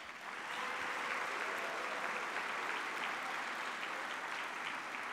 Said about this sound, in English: Let us give all the honorees and nominees a round of applause.